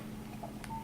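A Nokia X2 mobile phone gives a short, faint electronic key-press beep over a low background hum, a single tone near the end of the moment.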